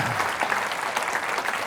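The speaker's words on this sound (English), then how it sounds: "So clap for the Student Award winners." Conference audience claps for the Student Award winners at a developer event's closing keynote, a brief burst of dense, even applause filling the room with no voices over it.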